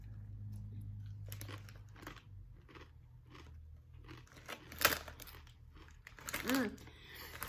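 Crunchy dill potato chips from Sweden being chewed close to the mic, with crisp bites and crackly munching plus some bag crinkling over a low background hum.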